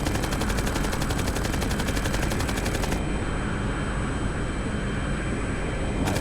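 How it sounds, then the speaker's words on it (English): Aircraft cannon fire in a flight combat video game: a loud, dense, continuous rattle of rapid shots, with engine roar blended in, lasting several seconds without a break. "I guess we're gonna have to go for the cannon again."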